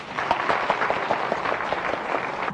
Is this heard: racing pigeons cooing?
no